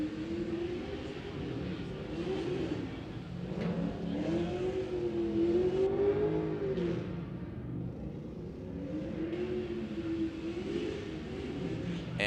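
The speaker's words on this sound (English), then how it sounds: "off in the distance we have a vehicle in the burnout box" At a Formula Drift Pro 2 event in Texas, a drift car in the burnout box revs and roars in the distance, engine pitch rising and falling in long sweeps under a constant crowd and track rumble.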